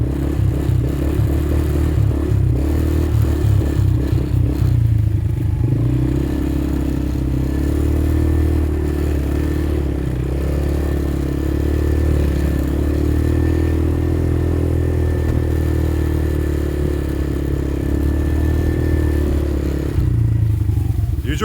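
A dirt bike engine drones steadily as a young rider heads toward a downhill stretch, with constant motor hum, clatter and scraping over rough ground throughout.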